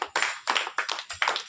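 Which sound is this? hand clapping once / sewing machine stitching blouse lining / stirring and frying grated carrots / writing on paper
hand clapping once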